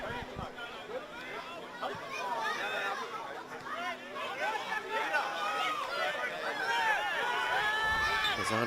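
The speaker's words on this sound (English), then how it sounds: "don't you love it when you get a bit of crowd support at these games? The Olympic youngsters making their presence heard early on." Young Olympic FC supporters at a Queensland Cup football semi-final fill the air with a lively crowd babble of chatter and shouts, moderately distant, under a commentator's voice.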